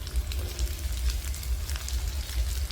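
Egg slices fry in hot oil on a tawa, giving a soft, steady sizzle and crackle with faint popping throughout, fairly quiet and with no voices.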